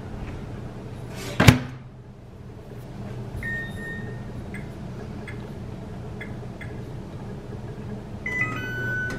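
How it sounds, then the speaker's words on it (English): A microwave oven hums steadily as it heats a bowl of oatmeal with milk, after a thump of the door closing, with a few short beeps toward the end. "It's in the microwave."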